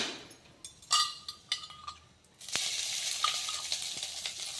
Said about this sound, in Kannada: ಈಗ ಮೊದಲನೇದಾಗಿ ಇವು ಬೆಂಡೆಕಾಯಿ ಫ್ರೈ ಮಾಡ್ಕೋಣ